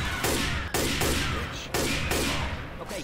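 Video game gunfire in rapid bursts, loud and close, with three or four dense volleys separated by short gaps and nothing else heard.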